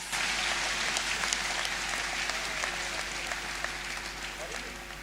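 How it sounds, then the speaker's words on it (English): Continuous clapping from a church congregation, a dense patter of hands that carries through without pause, with some voices mixed in. "Clap for Jesus Christ."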